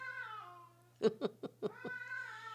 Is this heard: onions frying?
no